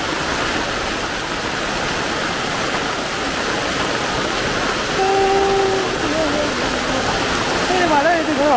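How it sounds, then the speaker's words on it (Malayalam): A steady wash of heavy rain falls around a house in Kerala, a loud, even hiss of water throughout, with brief faint tones near the end. "നല്ല മഴ."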